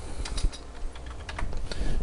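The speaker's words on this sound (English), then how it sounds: "just type in ipconfig, all one word," Keys on a computer keyboard are tapped in a quick, uneven burst as a short command is entered at a command prompt, close and clear with no talking.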